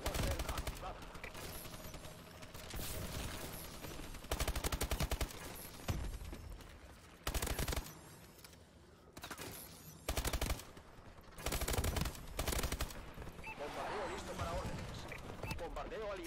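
An allied bombardment in a first-person shooter video game: loud bursts of rapid gunfire and explosions in repeated clusters, separated by short quieter gaps, with a voice speaking at times.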